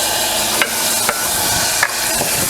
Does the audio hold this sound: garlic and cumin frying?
yes